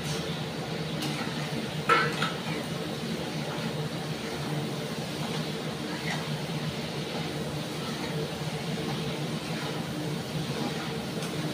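Egg and potato go into a pan and are stirred, making a soft, continuous scraping and clinking of a utensil against the pan. A brief louder knock comes early on, and no one is talking.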